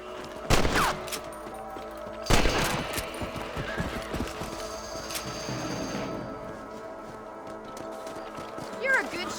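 Two sharp rifle shots crack out in a Red Dead Redemption rabbit hunt, spaced about two seconds apart, with horse hooves clopping and ambient outdoor game sounds continuing underneath.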